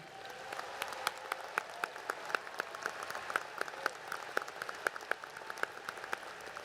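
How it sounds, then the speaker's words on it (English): Audience applause for graduating students at a university commencement ceremony, steady sparse clapping from a large hall, somewhat distant and fairly quiet, with individual sharp claps standing out over a soft wash. "A round of applause for these outstanding students."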